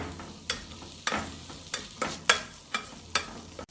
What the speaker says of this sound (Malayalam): ഇത് ഇളക്കി വഴറ്റാം.